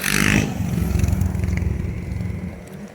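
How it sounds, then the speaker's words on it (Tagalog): A loud motorcycle engine roars close by at the start, then a steady rumble of traffic continues as fast motorcycles and vehicles pass along a village road. "Ang bibilis ng mga motor."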